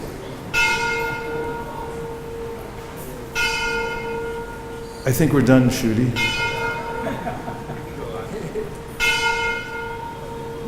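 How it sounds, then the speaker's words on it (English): A resonant bell tolls at slow, regular intervals, each strike ringing out and decaying, with a louder clattering burst in the middle while people talk quietly underneath. "The bell tolls."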